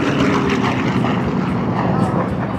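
An F4U Corsair propeller plane makes a low pass at an airshow, a loud steady engine and propeller roar, with a voice talking over it.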